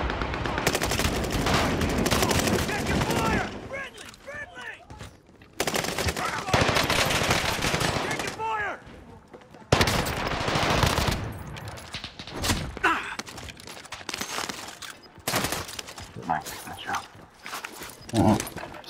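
Dense bursts of automatic gunfire in a video game shooter, loud and close, come in long sustained volleys broken by short pauses, while voices talk over the shooting.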